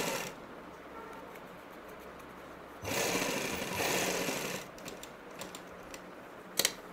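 A sewing machine runs steadily as it stitches along the edge of salwar fabric with cut-work design, a fairly quiet continuous whir with a louder burst in the middle and a couple of sharp clicks near the end.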